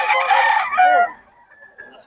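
A Boston Roundhead gamecock crows once, loud and close, its strained call holding for about a second before trailing off into quieter background noise.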